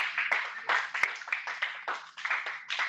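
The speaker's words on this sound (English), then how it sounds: "Give applause for Hanif and Fafa." A small group claps for Hanif and Fafa at an English-language professional seminar, giving light, uneven applause of scattered individual claps that carries on steadily for a few seconds.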